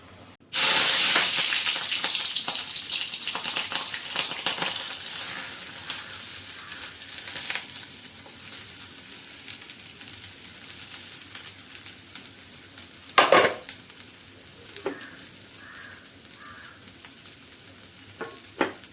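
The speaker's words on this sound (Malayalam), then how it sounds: "പൊരിക്കാൻ വേണ്ടി ഇട്ടിട്ടുണ്ട്" Potatoes coated in a masala of salt, chilli powder and turmeric sizzle steadily in a hot pan, a loud hiss that starts abruptly and continues with a few sharper crackles and stirring clatters near the end.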